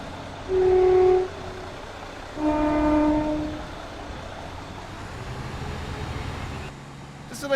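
A two-car diesel train pulling out of Clapham Junction in Train Simulator Classic sounds two loud horn blasts, then settles into a low engine rumble, with a brief click at the very end.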